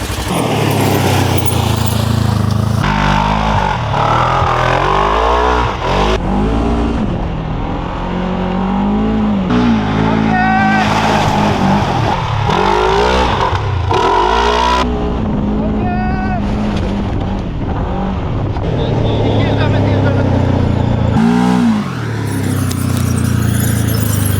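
An off-road SSV, a Segway Villain or CF Moto side-by-side, drives continuously with its engine droning, rising and falling as it revs and shifts, loud and close, with wind buffeting throughout.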